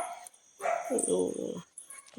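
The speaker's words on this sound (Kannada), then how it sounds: "ಅದಕ್ಕೆ ಬೇರೆ ನಾಯಿಗಳು ಬಂದರೆ ಸಿಟ್ಟು ಬರುತ್ತೆ ಅದಕ್ಕೆ ಕೂಗ್ತಿದ್ದಾನೆ ಅನಿಸುತ್ತೆ ಅವನು" A dog angered by other dogs barks and growls in a short burst close by, with a person talking over it in a home kitchen while jackfruit papad is being fried.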